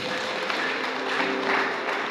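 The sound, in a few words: wedding guests applauding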